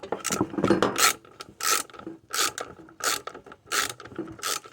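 Metal wrench ratcheting and scraping in short repeated bursts while bolts are tightened to mount a bench grinder to a workbench, close and fairly loud, with no talking.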